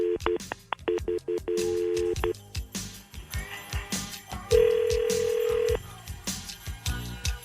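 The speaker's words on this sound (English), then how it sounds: "we're going to call him up to see where he's going to send a dozen free roses." A telephone number is dialed as a string of quick touch-tone beeps, followed by a longer steady tone, with clicks and faint background noise between the presses.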